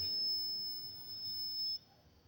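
A pressure switch alarm beeps as a steady high-pitched tone during a calibration test, loud and continuous for most of the moment before dropping away, with no talking.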